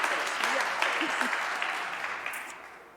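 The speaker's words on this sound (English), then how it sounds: "Let's give her a hand clap" Church congregation breaks into sustained applause, a dense, loud wash of clapping that gradually fades, with voices cheering faintly underneath.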